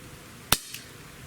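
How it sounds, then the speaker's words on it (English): A black Colt Python .357 revolver is fired over a chronograph, giving a single sharp, sudden crack followed by a brief fainter echo, heard alone with no talking. "let's take 5 shots over the Crony and see how well our black version of the Python does"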